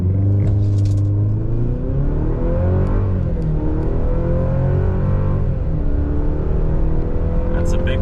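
A 2024 Chevrolet Colorado with the mid-grade 2.7-litre engine launches hard from a brake rev with traction control off and 4 auto on, its engine note climbing steadily and loud through the clip and dipping at each gear shift.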